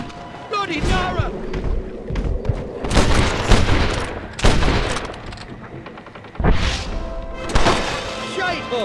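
Rapid bursts of gunfire crack repeatedly in Red Dead Redemption during a raft shootout, loud and close, with heavy volleys separated by brief gaps and voices shouting in between.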